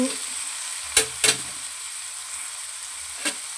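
Radish curry with turmeric and salt is stirred in a pan over a low stove flame, a steady quiet sizzle broken by a few sharp scrapes and clinks of the spoon against the pan.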